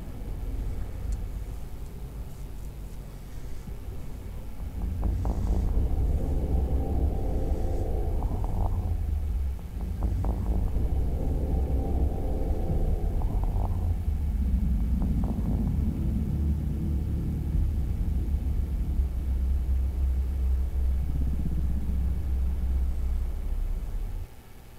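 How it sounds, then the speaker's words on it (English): In the space game Eve Online, a ship entering or exiting a wormhole produces a deep, continuous rumbling drone with slow whooshing swells and tonal surges layered over it, sustained for over twenty seconds. "That is the sound of somebody entering or exiting the wormhole."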